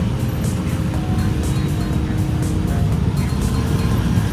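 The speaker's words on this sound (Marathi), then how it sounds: "Full traffic jam." A street traffic jam in Bali: a loud, steady engine rumble of nearby vehicles that holds without a break for several seconds, with no distinct passes.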